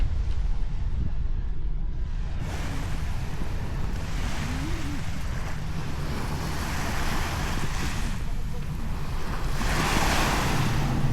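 Sea waves on the coast of Cebu, a constant roaring wash of surf with wind buffeting the microphone, loud and near, swelling in brief surges toward the end.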